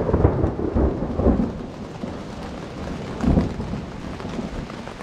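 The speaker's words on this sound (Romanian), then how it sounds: "Tună și fulgere chiar." Thunder rumbles low and heavy through a powerful mountain storm, with rolling peaks over steady pouring rain, loud and close, with no voices.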